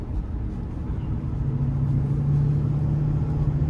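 A 2004 Ford F-350 XL with the 6.8 V10 cruises along a back road, its engine a steady low drone with a rising hum layered over constant road rumble, close and continuous with no talking.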